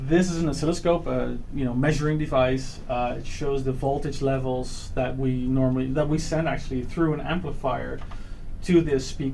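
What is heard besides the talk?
None of the usual background noises is heard.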